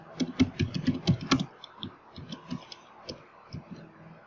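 Quick bursts of keystrokes on a computer keyboard, close and crisp, a rapid run of clicks at first, then slower scattered taps, with no talking.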